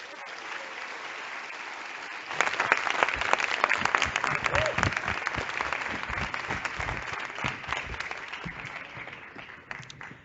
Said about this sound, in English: Ladies and gentlemen, a big round of applause for Professor Gert-Jan Hofstede.